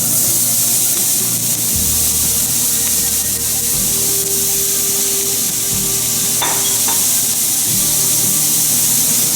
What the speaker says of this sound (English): And now we are going to add the onions.